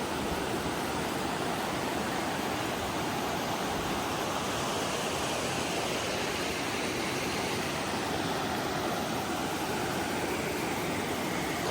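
A clear mountain creek along the Appalachian Trail rushes steadily in winter, a dense continuous broadband wash close by with no voices.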